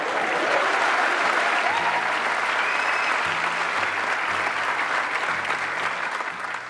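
An audience at a business seminar applauds continuously, a thick, even wash of many hands clapping at full volume, with faint voices beneath.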